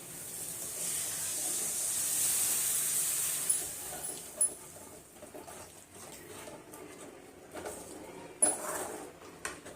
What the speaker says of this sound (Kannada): ನೋಡಿ ಗೊಜ್ಜು ಚೆನ್ನಾಗಿ ಕುದೀತಾ ಇದೆ